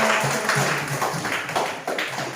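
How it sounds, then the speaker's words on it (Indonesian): Classroom applause during a lesson on a children's fairy tale, a short burst of many hands clapping at close range, fairly loud and steady. "tepuk tangan untuk kita"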